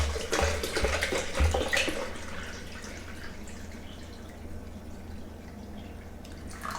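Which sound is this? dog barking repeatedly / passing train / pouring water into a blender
pouring water into a blender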